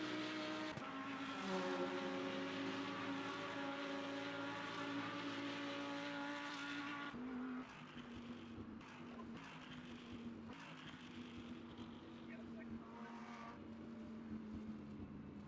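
A hypercar in Le Mans Ultimate at Sebring in mixed conditions, its engine droning loud and steady in high gear, then dropping in pitch as it slows, with the revs rising and falling again afterward.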